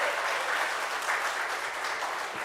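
Audience applause at a public political meeting, a steady dense wash of clapping from a crowd throughout, fairly even in level with no break.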